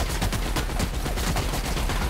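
Continuous rapid machine-gun fire from a powerful gun in the video game The Outer Worlds, with loud, evenly spaced bursts that run without pause for the whole stretch.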